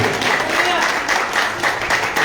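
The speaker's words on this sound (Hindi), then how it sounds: "प्रभु यीशु मसीह के नाम से एक सुंदर ताली बजाएंगे आप सभी।" Congregation clapping in a church, a steady dense patter of many hands filling the whole stretch at a moderately loud level.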